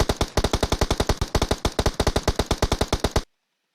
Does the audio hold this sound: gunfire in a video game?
yes